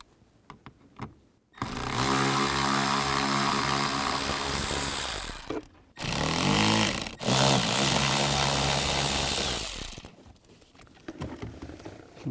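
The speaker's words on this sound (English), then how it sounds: "Remove these 3 screws. There's one over there. Use a T20." A power driver with a T20 bit backs out screws from the blower motor of a 2008-2017 Dodge Grand Caravan, loud close whirring in two long sustained runs separated by brief pauses, with clicks before and after.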